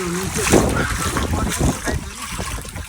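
Heavy-rain floodwater in Kathmandu pouring and splashing close by in a steady rush, with wind buffeting the microphone and a person talking over it.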